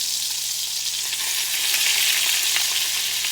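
Pork tenderloin frying in olive oil and butter in a pan gives a steady, close, bright sizzle that swells slightly halfway through, with no talking.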